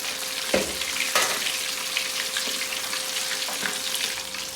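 A whole pre-boiled chicken deep-frying in hot oil, giving a dense, constant crackling sizzle with a few sharper pops and spatters near the start, close and fairly loud.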